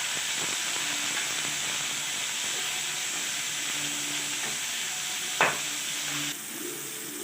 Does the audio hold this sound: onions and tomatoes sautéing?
yes